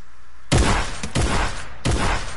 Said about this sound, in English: My shotgun do 9 damage.